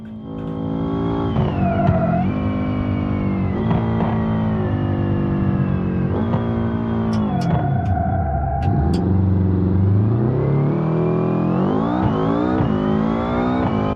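Racing car in a driving game on a steering-wheel setup, engine roaring continuously and loud with rising revs and gear shifts as nitro boost kicks in, a brief whoosh mid-run.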